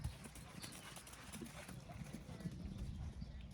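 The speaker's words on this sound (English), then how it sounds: "ride a good trot all the way to your canter transition" A horse trotting during a riding lesson, a steady faint clip-clop of hooves in the distance while an instructor talks over it.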